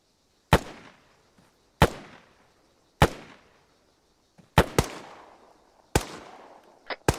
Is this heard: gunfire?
yes